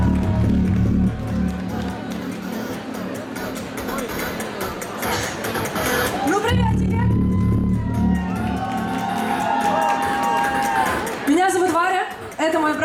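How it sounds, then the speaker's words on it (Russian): A concert crowd at the Depo Three Stations venue in Moscow cheers, shouts and whoops as the band is introduced, a sustained roar of many voices with rising yells, and a voice calling out over the noise. "Ваши аплодисменты, Москва,"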